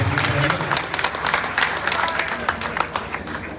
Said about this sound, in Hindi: एक बार जोरदार तालियां योगेंद्र पाल जी के लिए